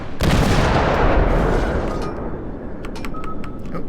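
Warship main-battery salvo in the naval combat game World of Warships, fired by a cruiser: a heavy, booming blast swells at once and rolls on in a long, dense rumble, with faint higher clicks of game sounds near the end.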